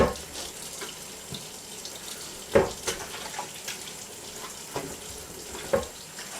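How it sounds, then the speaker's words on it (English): Water runs steadily from a tap while plastic containers are rinsed with dishwashing liquid and warm water, with clinks and knocks of plastic and splashes scattered through the stream. "I'm just going to wash these containers"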